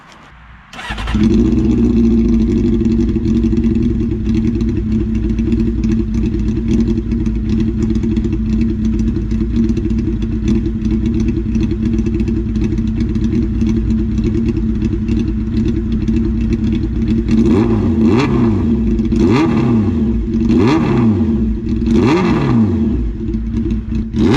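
A motorcycle with a 3D-printed exhaust starts abruptly and idles loudly with a raspy exhaust tone, then revs several times in sharp rising bursts near the end.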